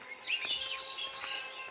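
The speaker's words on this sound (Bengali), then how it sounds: "অনেক পাখি এখানে ডাকাডাকি করতেছে" Several small birds chirp and tweet in rising and falling calls, moderately close and fairly faint against a soft background hiss, with no talking.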